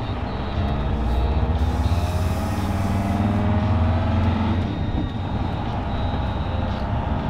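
A VW Razorback van drives along with a steady, loud engine drone and rumbling road noise, continuous and close throughout, with no talking.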